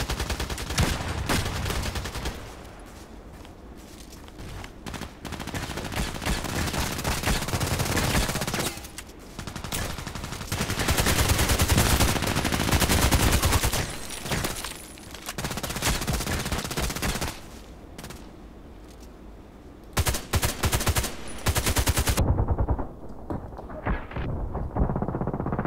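HK417 rifle fire in a shooter game, long loud bursts and rapid volleys of shots broken by brief pauses, with further gunfire near the end.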